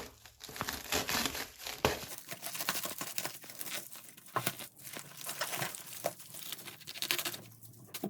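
Cardboard packaging on a Pokemon box being cut open, a steady run of close crinkling, tearing and scraping noises that keeps going with uneven bursts and no talking.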